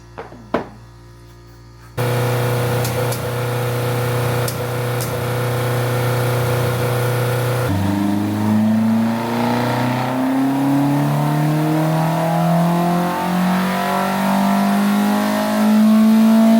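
A Ford Escort Mk2 with a 2.1 Pinto engine revs on a rolling road. A brief knock comes first, then a loud steady idle-like drone, and after about eight seconds the engine climbs in a rising rev that builds to a hard, close roar.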